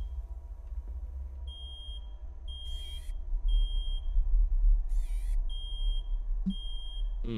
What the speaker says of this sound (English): What kind of alarm is that?